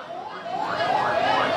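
Ambulance siren wailing in a steady rising and falling pattern, fairly loud and close, sounding through congested traffic near a mosque in Denpasar, Bali, with no talk over it.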